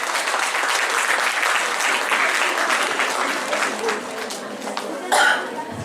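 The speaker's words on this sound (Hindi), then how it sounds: "मैडम स्टेज पे आ रही है, तालियों से स्वागत होना चाहिए इनका।" A crowd applauds to welcome someone speaker onto the stage at an indoor motivational event. The dense clapping runs steadily for several seconds, then thins, with a brief cough or murmur near the end.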